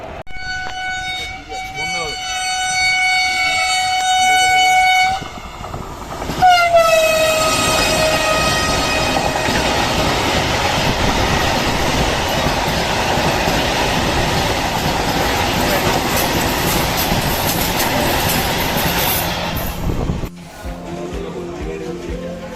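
An Indian Railways train rolls along with a loud, sustained horn blast, then a second falling horn note over steady rumbling, clattering wheels, with voices in the background.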